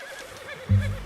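A horse in the video game Red Dead Redemption 2 gives a short, wavering neigh, followed by a low thud near the end.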